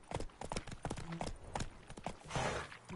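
Roach, a horse in Witcher 3, trots with brisk, evenly repeated clip-clop hoofbeats that sound close and fairly quiet, with no voices.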